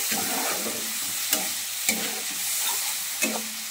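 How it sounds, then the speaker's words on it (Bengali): Masala for chicken kosha is sautéed in a pan, giving a continuous close sizzle with a few sharp scrapes of a spatula stirring through, and no voices over it. "মশলাটা আমি কষিয়ে নিই ভালো করে।"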